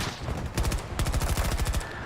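Rapid bursts of automatic gunfire crackle loudly and continuously, with booming explosions layered underneath, in the video game Battlefield 2042.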